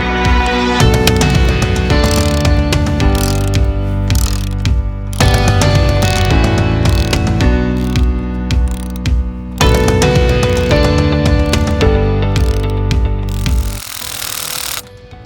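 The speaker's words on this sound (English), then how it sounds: "Now we're tightening everything back up again because we finally got this bolt in the hole." Cordless power tool tightening bolts on a hitching rail, loud whirring and ratcheting bursts in several runs with short pauses between them, close to the microphone, ending in a quieter stretch.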